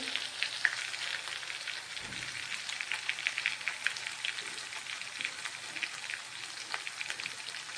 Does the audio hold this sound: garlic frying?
yes